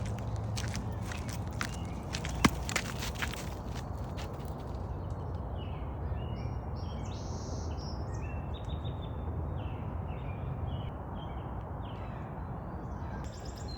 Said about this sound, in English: I feel like the birds are extra loud this spring.